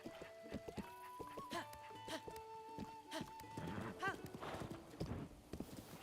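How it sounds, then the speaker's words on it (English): Horse hooves clip-clop in Zelda: Breath of the Wild, a quick run of light steps with a brief whinny, heard alongside game music tones and chimes. "They've trapped my horse."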